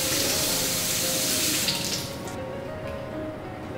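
Tap water runs steadily over a peeled sweet potato being washed at a kitchen sink, a continuous close splashing stream that softens slightly partway through, with no talking.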